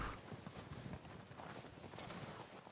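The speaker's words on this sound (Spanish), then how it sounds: "Ah, el caballo." Horse hooves clip-clop in Red Dead Redemption 2, a faint, quick irregular patter of steps set against a steady wash of background noise, with no voices.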